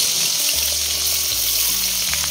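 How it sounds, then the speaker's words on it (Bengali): A fish fries in a hot pan, giving a loud, continuous hiss and sizzle throughout with a low steady hum beneath it and no voices. "এখন মাছটা ভেজে নেব।"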